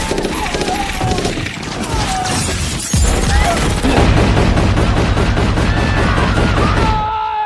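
Dense bursts of gunfire ring out in a film scene, loud and rapid, mixed with shattering crashes and a thick layer of effects and noise throughout.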